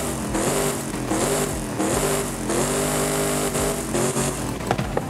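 A Toyota truck fitted with a sports exhaust in the Forza Horizon 5 racing game revs hard and steadily, its engine note rising and falling in several loud surges with no talk over it.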